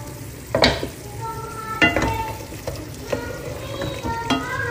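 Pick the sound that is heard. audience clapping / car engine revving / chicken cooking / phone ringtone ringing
chicken cooking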